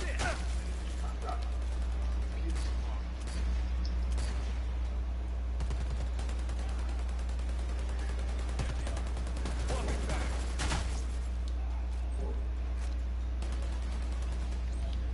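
Video game gunfire rattles in continuous bursts and scattered shots over a steady low rumble for the full stretch, a busy, dense battle mix with no break.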